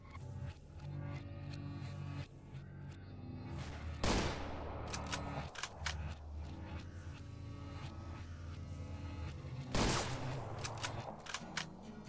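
Sniper gunfire in the video game Stalker Anomaly: two sharp, loud shots spaced several seconds apart, each with a trailing echo, over a steady game ambience and background music.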